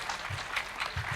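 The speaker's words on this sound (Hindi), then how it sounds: "एक बार तालियां बजाकर आप स्वागत करिए।" Audience clapping in welcome for a poet at a Hindi kavi sammelan, a soft, fairly distant patter of many hands that rises and falls briefly.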